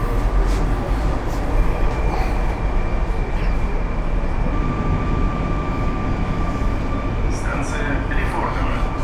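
Loud, steady rumble of a metro train carriage in motion, with a constant droning roar, faint tonal whine and occasional clatter throughout.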